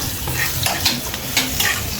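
Onion and garlic fry in oil while being stirred, producing constant close sizzling broken by a few sharper scrapes of the stirring utensil, with no one talking.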